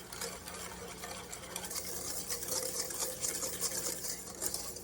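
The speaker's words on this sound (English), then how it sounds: "I'm just going to take me my whisk and kind of sift it together like that" A whisk scrapes and swishes steadily around a bowl, mixing dry pear cobbler ingredients with sugar and cinnamon, close and continuous, with no talking.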